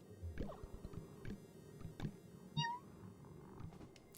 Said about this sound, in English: Ah, kitty.